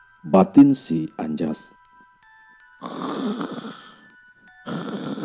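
A man's heavy, rhythmic snoring in a quiet room, two drawn-out rasping breaths that come after a short stretch of speech and faint ringing tones.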